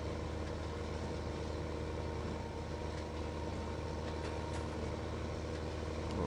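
A tractor engine labours uphill in the Farming Simulator 2015 video game, giving a steady, dense mechanical drone that stays loud and unbroken throughout with no talk.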